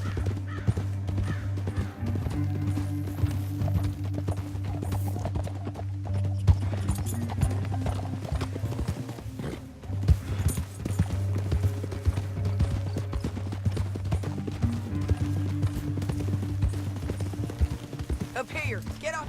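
Horses gallop through a canyon in the video game Red Dead Redemption 2, steady rhythmic hoofbeats with occasional neighs running throughout under a low musical drone and scattered distant gunfire.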